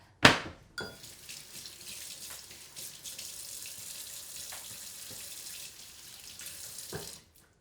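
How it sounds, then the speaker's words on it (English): Running water from a sink tap pours steadily as hands are washed beneath it, opening with a sharp knock, then a close continuous splash with small clunks before it shuts off at the end. "Let me wash my hands real quick."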